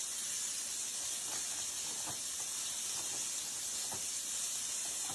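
Cubed steak sears in a pan over medium heat, giving a steady, even sizzling hiss with faint soft ticks, no talk.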